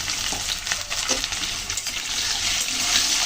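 Cut potatoes frying in a pan with whole cumin and a little turmeric, giving a steady, loud oily sizzle with small crackles and faint stirring throughout.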